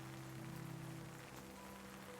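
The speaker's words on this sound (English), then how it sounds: "just as the musician's song fades into the sound of rain" Soft rain falls as an ambient sleep-story effect, a faint even patter over a low steady hum that continues without break.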